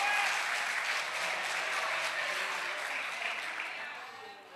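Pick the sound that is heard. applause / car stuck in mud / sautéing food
applause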